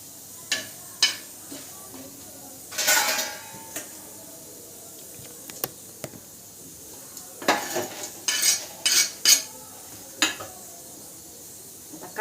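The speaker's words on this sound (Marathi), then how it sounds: "तर चला आता मिरच्या भाजून घेतल्यात" Green chillies roasting in a pan, heard as scattered metallic clinks and scrapes of a utensil against the pan, with a faint background hiss between the louder bursts.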